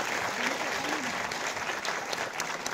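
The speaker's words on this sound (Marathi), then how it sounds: "तर एकदा जोरदार टाळ्या होऊन जाऊ दे या पूर्ण टीम सप्तपदीसाठी" Steady, dense applause from an audience at a Marathi drama team's Gudi Padwa stage event, continuous hand clapping filling the hall with a faint voice or whistle drifting through.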